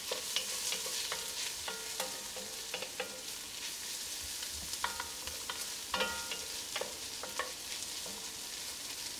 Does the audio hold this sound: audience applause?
no